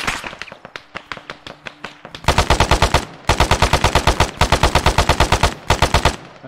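Heavy automatic gunfire in a military video game: long, loud, rapid bursts of machine-gun shots in rhythmic strings, close and dominant, preceded by lighter scattered shots at the start.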